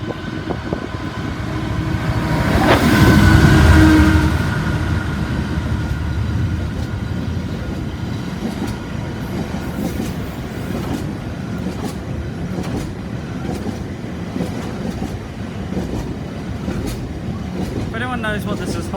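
A long freight train hauled by locomotive 66107 passes at St Denys on the South West Main Line, with a loud engine swell early and then continuous rumbling wagon and clickety-clack noise throughout.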